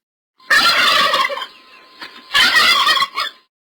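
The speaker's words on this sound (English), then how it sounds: "Turkey." A turkey gobbles in two loud, rapid bursts separated by a short pause, close and clear with no other sounds.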